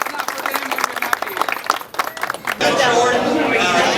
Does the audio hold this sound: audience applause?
yes